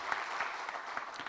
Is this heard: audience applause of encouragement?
yes